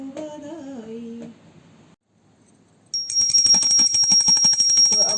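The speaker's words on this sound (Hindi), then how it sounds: "तो अब मैंने घंटी बजा ली है" Singing fades to quiet, then a small hand bell rings rapidly and continuously during a Janmashtami worship, bright and close, its metallic tinkle sustained to the end.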